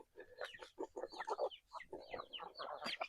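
Chickens clucking nearby in quick, uneven bursts, several birds overlapping in a short, fairly quiet stretch.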